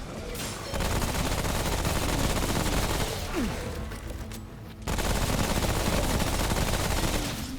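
Sustained bursts of gunfire from a weapon in the video game Remnant: From The Ashes, loud and continuous with a short lull midway, and a voice faintly present beneath it.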